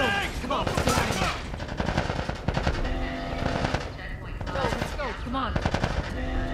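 Dense automatic gunfire rattles in the video game The Last of Us. Fast, loud bursts of shots run almost without pause over several seconds, with shouting voices mixed in.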